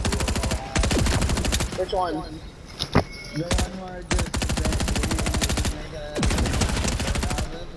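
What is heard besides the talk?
rapid fire gunshots in video game Fortnite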